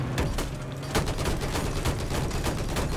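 Rapid, steady gunfire in Battlefield 4 multiplayer, a dense run of sharp shots at an even, fast rhythm, loud and close with no pauses.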